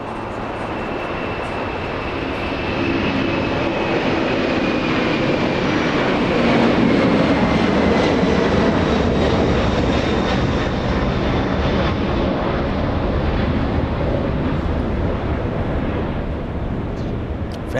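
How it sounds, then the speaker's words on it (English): A Boeing 747 cargo jet takes off from a runway at LAX, a loud, sustained roar of heavy jet engines close by that swells and holds steady as the aircraft lifts off, with a faint high whine running through it. "Oh, here she comes, lifting off right in front of us."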